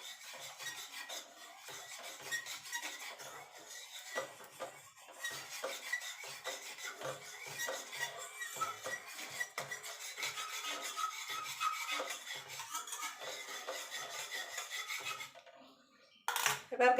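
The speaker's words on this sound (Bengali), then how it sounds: "এবার ভালো করে মিশিয়ে নেব।" Powdered milk is mixed in a pan on an unlit stove for sandesh, giving a continuous soft rubbing and scraping of a spoon against the pan bottom, ending in a short louder clatter.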